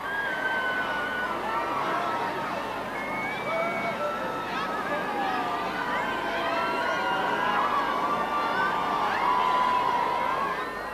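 Crowds outside Clarence House during a royal wedding, waiting for Prince William to set out, form a steady roar of cheering, shouting and babble with whistles and raised voices. The noise is continuous and fairly loud throughout.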